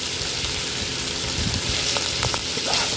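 Ginger garlic paste and curry leaves fry in hot oil for a liver fry, a loud, dense, continuous sizzle with a few faint stirring clicks and crackles.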